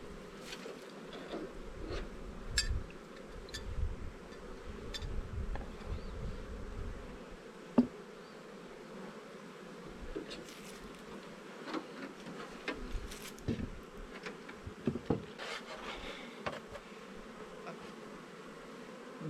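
Honey bees buzz around their hives outdoors, a soft continuous drone with individual bees passing close by now and then.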